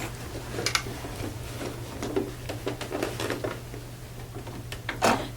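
A sewing machine stitches a label onto a quilt, a quiet, close, uneven ticking and pattering of the needle over a low steady motor hum, with brief louder clicks near the end.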